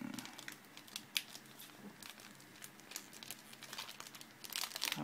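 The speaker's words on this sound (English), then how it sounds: "I guess I'll open the sleeves to put my rare cards in." Plastic trading-card sleeve packaging being opened, giving soft, irregular crinkling and rustling close by, with small sharp crackles scattered throughout and a slightly busier burst toward the end.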